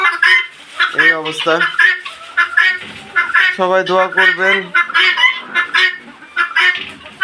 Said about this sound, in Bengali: দেখেন মুরগিগুলো কত চঞ্চল